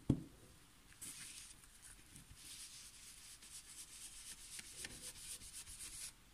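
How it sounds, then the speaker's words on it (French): An ink blending brush is rubbed across paper in a card-background inking technique, giving soft, continuous brushing and scrubbing strokes that run steadily after a brief tap at the start, close and fairly quiet with no talk. "je vais venir estomper et je vais partir du bord de mon papier là"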